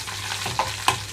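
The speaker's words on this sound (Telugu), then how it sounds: "ఇక్కడ తాలింపు అంతా వేగిన తర్వాత కరివేపాకు రెమ్మలు వేస్తున్నాను" Mustard-seed tempering with curry leaves and garlic frying in hot oil for bitter gourd pulusu, a brief close sizzle with a couple of sharp pops or spatula taps.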